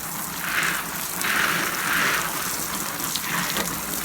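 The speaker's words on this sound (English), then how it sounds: "we're going to give it a good soaking. Maybe if we give it a little power wash" A painted sweatshirt is sprayed with water to soak it, making a steady hissing, gushing spray with gentle swells in intensity, close and continuous.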